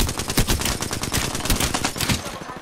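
Rapid gunfire from an enemy team in an online shooter game, a dense, loud burst of overlapping shots crackling continuously for a few seconds.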